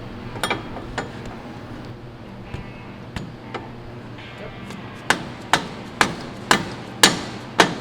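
Metallic hammer taps seat an axle into place on a Polaris General XP during a Turbo S suspension install, scattered light knocks giving way to a series of six sharper, louder strikes near the end.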